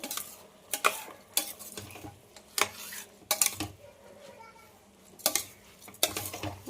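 Rice with tomato puree stirred in a pressure cooker, with a series of irregular metallic clanks and scrapes of a spoon against the pot, close and fairly loud, while faint voices murmur in the background.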